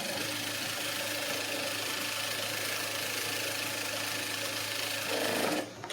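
A sewing machine stitches the side seam of a lining blouse, a steady mid-level mechanical whirr running continuously, rising slightly in loudness just before stopping near the end.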